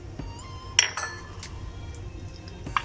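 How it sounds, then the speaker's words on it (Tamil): A spoon clinks against a bowl while watalappan pudding batter is stirred with raisins and cashew nuts, a few faint, scattered taps and scrapes over a quiet background. "நல்லா மிக்ஸ் பண்ணி விட்டுக்கோங்க."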